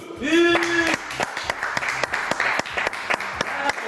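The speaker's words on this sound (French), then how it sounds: "je vous demande d'applaudir Miss JJDA 2010, la divine Isabelle 2" Applause for Miss JJDA 2010 rises after a brief voice at the start, a steady spread of claps continuing with some background voices mixed in.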